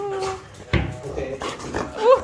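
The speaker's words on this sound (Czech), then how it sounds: "tady mají taky moc pejsků" Dogs at a local family's home in Turkey whimper and yip in short bursts, mixed with clattering dishes and people talking nearby.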